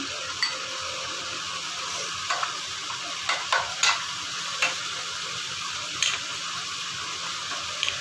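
Okra (bhindi) frying in a pan for a curry, a soft, steady sizzle broken by occasional spatula scrapes and light stirring clicks.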